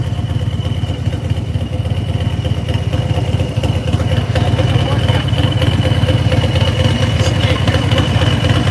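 A turbocharged Harley motorcycle engine runs loud and steady close by, a dense rumbling drone with a faint whine above it.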